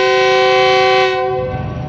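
A GEU-40 diesel locomotive hauling the Karakoram Express sounds a loud, sustained multi-tone horn as it departs Drigh Road Junction station, the blast cutting off after about a second into low rumbling rail noise.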